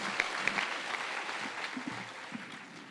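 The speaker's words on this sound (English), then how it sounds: "Can we give another round of applause to Her Excellency, the First Lady?" Audience applause at a women achievers celebration, a moderately faint, steady spread of clapping with a few louder individual claps near the start and murmured voices underneath, easing slightly toward the end.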